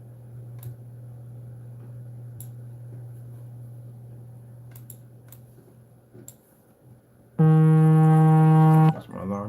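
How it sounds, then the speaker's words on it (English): An alarm sounds loudly near the end, a sustained harmonic electronic tone lasting about a second and a half, preceded by a quiet room with a low steady hum and a few faint ticks. "That's my alarm getting me up."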